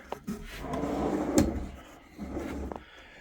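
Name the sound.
new wooden shop drawers opening and closing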